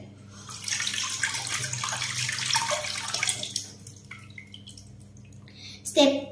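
Tap water runs steadily into a sink for about three seconds as hands are washed at a school, a close, hissing stream that then stops, followed by drips and faint handling noises while someone speaks.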